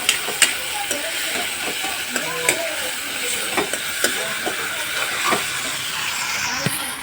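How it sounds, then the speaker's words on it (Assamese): Onions fry in hot oil with a continuous close sizzle and hiss, while a utensil stirs and taps the pan in irregular knocks. "পিঁয়াজ দিলোঁ, ভাজি আছোঁ"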